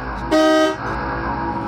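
A car horn gives one short, loud honk close by, then falls back to a low background hum.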